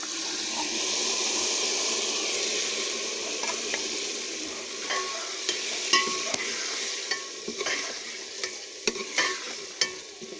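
Chicken cooks in a pan with salt for a village-style bottle gourd curry: a loud, steady sizzle at first, then scattered clinks and scrapes of stirring over a softer frying hiss.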